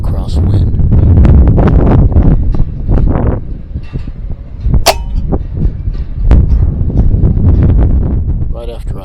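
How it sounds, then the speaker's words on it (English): A strong crosswind buffets the microphone outdoors during airgun pigeon pest control, with low rumbling gusts rising and falling under someone talking and a few sharp metallic clangs. "As you can hear the crosswind now."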